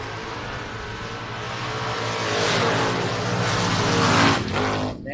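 Door-class drag race cars, the Travelin' Jones 74 and the Schrinz Automotive car, roar down the track together in a sustained loud engine blare that peaks and then fades toward the top end.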